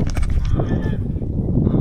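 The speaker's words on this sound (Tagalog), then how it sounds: "Kala ko gansa. Hoy, saan ka galing? Hindi ka gansa, bibi ka." A duck at close range gives honking quacks in quick bursts, loud over a noisy outdoor background.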